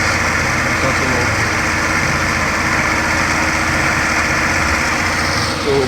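A VW Passat B5 engine idles steadily with a constant close rumble and faint high whine, unchanging throughout.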